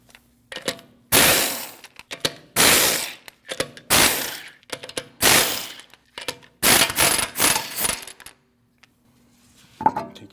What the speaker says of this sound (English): you have 5 19mm lug nuts you need to remove